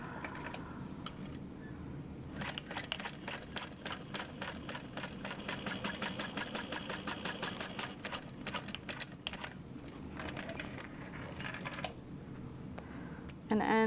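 A sewing machine runs a long, fast, even stitching burst through a clear sling, its rapid mechanical clatter steady and close, with short pauses near the start and end.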